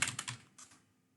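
Keys on a computer keyboard clatter in a quick, quiet burst of a few strokes as a command is typed, then fade to silence, with no voice.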